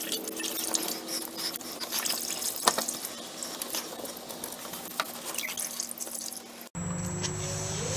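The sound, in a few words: engine coolant fluid draining from Mazdaspeed MX-5 radiator hose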